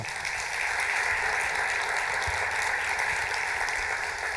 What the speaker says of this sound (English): Let's give Hank a round of applause.